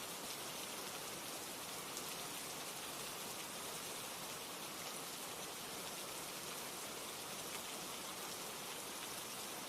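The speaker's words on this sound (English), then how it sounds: "when the rain drums against my windows" Rain falls steadily against windows, a dense, even hiss of drops with no pauses or voices, soft and constant throughout.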